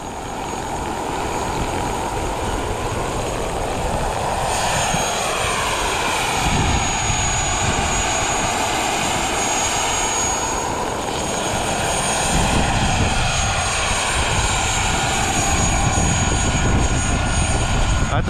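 A Starwood Lama radio-controlled model helicopter with a temporarily fixed tail rotor flies outdoors in a crosswind, giving a steady, fairly loud whirring rotor and motor drone that continues throughout with slight swells.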